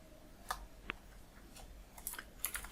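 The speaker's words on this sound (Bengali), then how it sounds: "কোড দেন ডট এবং এখন দেব এন্টার।" Keystrokes on a computer keyboard entering a short command, a few scattered clicks spread across the moment, faint and close with a low background hum.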